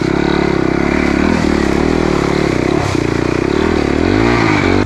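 A motorcycle engine idles steadily close up while being parked, a constant throbbing rumble with slight shifts in pitch, no voices.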